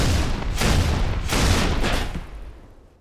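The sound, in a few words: Brute Shot grenade explosions in Halo 3 alpha, video game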